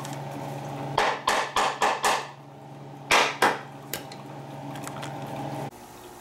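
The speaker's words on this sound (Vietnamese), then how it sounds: "mình lấy cái búa mình dọc nó vô thôi chứ không có gì hết" Sharp hammer taps seat a new valve cover gasket on a Toyota Camry engine: a quick run of five strikes, then two more and a lighter tap, close and loud over a steady background hum.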